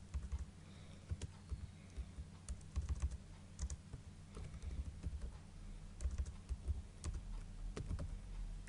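Quiet typing on a computer keyboard, a short burst of crisp key clicks followed by scattered taps at an irregular pace, close up and faint, with no talking.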